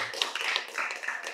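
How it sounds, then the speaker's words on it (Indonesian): An audience at an Islamic study gathering in Makassar claps briefly, the dense clapping close and continuous for just over a second. "Tepuk tangan untuk Makassar."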